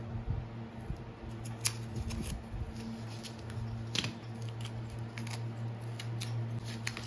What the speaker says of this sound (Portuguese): você vai pegar um estilete aqui, ó. Nós vamos tirar aqui a fita crepe.